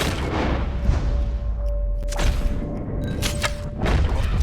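A rifle shot fired while hunting in Red Dead Redemption 2 lands as a loud booming crack, followed by a couple of further distant thumps and rumbling game ambience, with no voices over it.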